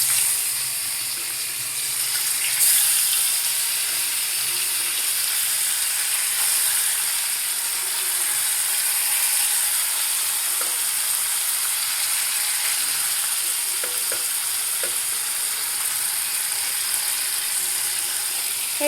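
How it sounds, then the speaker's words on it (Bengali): Marinated paneer cubes, coated with turmeric powder, fry in a pan with a steady broadband sizzle that holds throughout, with a few faint clicks and ticks of movement and no talking. "এবার আমি পনিরগুলো এর মধ্যে দিয়ে দেবো ফ্রাই করার জন্য।"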